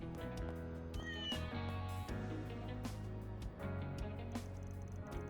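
A cat meowing in the video game Trails Through Daybreak, several drawn-out plaintive meows over a steady musical soundtrack, clear and up front.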